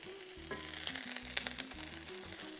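Buttered telera bread rolls sizzle and crackle steadily on a hot griddle, a close, quiet frying hiss with scattered pops and no talking.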